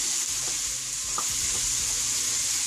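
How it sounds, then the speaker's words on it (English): Onions hit a pan of browned Italian sausage for a lentil and kale soup, sizzling in a steady broad hiss with soft stirring scrapes underneath, close and constant, with no talking. "So now that it's all brown, we're going to go ahead and add our onions"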